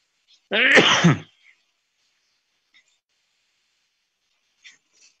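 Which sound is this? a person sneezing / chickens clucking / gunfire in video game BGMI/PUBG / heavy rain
a person sneezing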